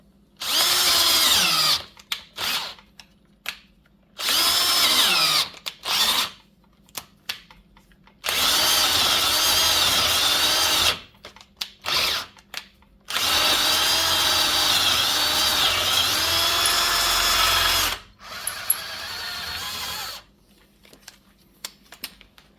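A power drill whirs loudly in repeated bursts while drilling for Jeep Wagoneer door hinge pins, some long and sustained, others short, with pauses and small handling clicks between runs.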